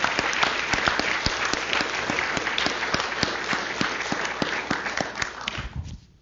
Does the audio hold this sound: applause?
yes